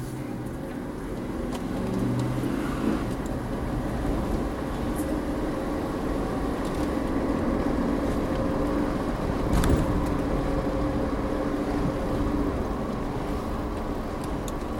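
A pickup truck drives along at steady speed, a continuous broadband road rumble and engine drone from inside the cab with a few small knocks and one sharp bump partway through, no talk.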